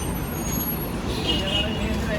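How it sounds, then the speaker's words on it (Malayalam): Parassala depot bus arriving, a steady broad engine rumble with road noise throughout, a faint hiss rising partway through, and people talking over it. "ബസ് എത്തി"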